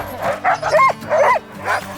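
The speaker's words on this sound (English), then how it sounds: "starting with our very first one, dog sledding." Sled dogs bark and yip excitedly during a winter dog sledding outing, a rapid run of sharp barks fairly close and loud over a low steady background hum.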